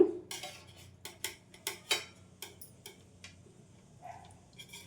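Knife chopping set jaggery Karachi halwa into pieces on a tray, a rapid series of sharp, close taps and clacks in an uneven rhythm, then a softer scrape near the end.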